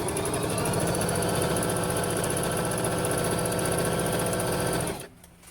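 Juki HZL-355Z sewing machine running a zigzag stitch at 2.5 width and small density, a steady, close mechanical whir with fast regular needle chatter that stops abruptly near the end.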